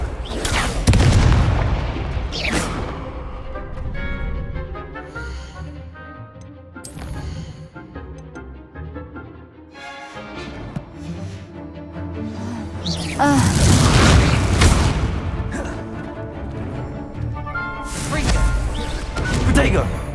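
Booming spell explosions from the Confringo curse in the Hogwarts Legacy video game, heavy thuds bursting repeatedly amid dense game music and effects, with a voice speaking over the action.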